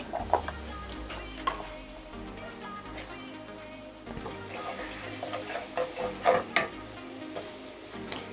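Onions fry and sizzle in a pan while being stirred, with scraping and clinking of the utensil growing louder and more frequent toward the end, and no one speaking.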